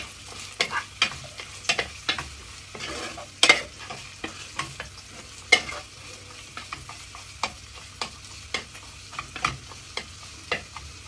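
Onions sauté in a pan while a utensil scrapes and stirs in regular, distinct strokes over a low sizzle, close up, with no talk.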